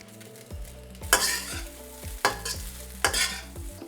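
Scallions being stir-fried into fried rice in a hot pan: close, crisp sizzling with three or four loud scraping tosses of the spatula in a rough rhythm.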